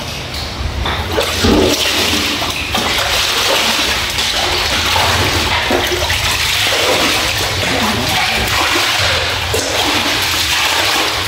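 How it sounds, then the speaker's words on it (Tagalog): A toilet flushing nearby, loud rushing water swirling and draining down steadily for several seconds. "Bumababa na yung tubig eh."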